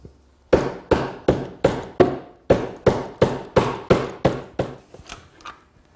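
Glued wooden mortise and tenon pieces of a wall-hung console are tapped together, about a dozen sharp, evenly spaced knocks that fade toward the end, close and with no talking.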